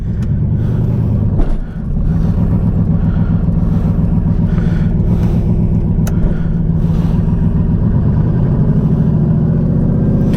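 A car engine revs hard and steadily while the wheels are stuck in grass, a loud, continuous low rumble that barely falters across the whole stretch.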